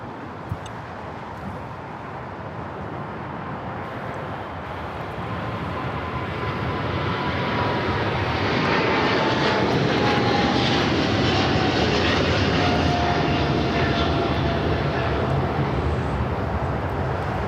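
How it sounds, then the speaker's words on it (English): A China Cargo Airlines Boeing 777 freighter takes off from Los Angeles airport, its engine roar swelling steadily from a broad rumble to a loud, sustained blast with no talk over it. "China Cargo Airlines 222, taking off to Shanghai on the 777 freighter."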